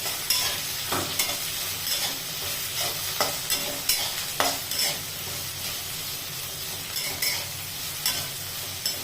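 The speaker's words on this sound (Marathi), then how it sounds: "भेंडी छान परतवून घेते" Okra sautéed with asafoetida in a pan, with a steady oil sizzle and repeated scraping and knocking of a spoon as it is stirred, close and fairly loud with no voices.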